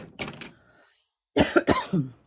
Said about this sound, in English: Excuse the coughing.